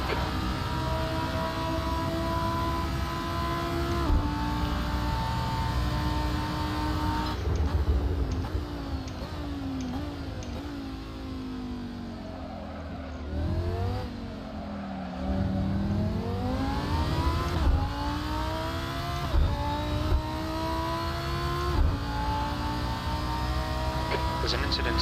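Lamborghini Huracan Performante V10 engine racing at Monza in Assetto Corsa, a loud sustained engine drone rising and falling through gear shifts, with someone talking over it.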